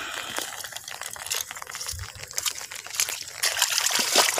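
Water trickles and splashes steadily nearby, a soft continuous babbling with small irregular drips and gurgles.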